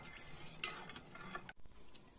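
Caramel syrup heats in a pan on a gas stove just short of boiling, giving a steady soft hiss and faint bubbling with a few light clinks, fairly quiet and close with no voices.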